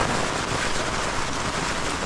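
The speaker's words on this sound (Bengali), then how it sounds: "বৃষ্টি এখনো পড়ছে" Steady rain falling on a muddy hiking trail near the Napittachhora waterfall trail, a dense, even hiss of drops that stays constant and fairly loud throughout, with no voices over it.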